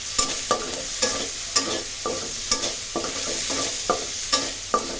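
Food frying in a pan of oil, with a steady close sizzle broken by regular sharp clinks and scrapes of stirring roughly every half second.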